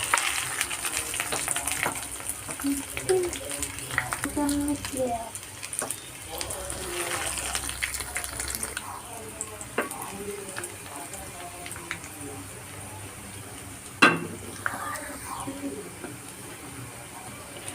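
Potato and bread snack shallow-frying in about half a pan of coconut oil, a steady low sizzle and crackle running throughout under a voice talking, with a sharp clatter near the end.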